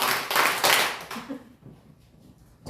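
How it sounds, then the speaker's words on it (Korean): A church congregation at a New Year's Eve worship service claps in unison, a short run of sharp, loud claps in the first second and a half before the sound fades to a quiet room. "박수 3번"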